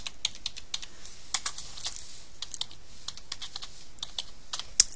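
Rapid typing on a computer keyboard while renaming a building elevation view in design software, with close, crisp, irregular keystroke clicks running steadily and one sharper tap near the end.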